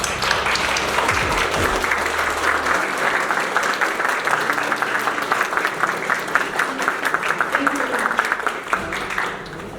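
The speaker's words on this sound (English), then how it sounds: "give a round of applause to" Graduation ceremony audience giving a sustained round of applause for faculty and staff, dense continuous clapping from a large crowd with a few brief voices near the start and end.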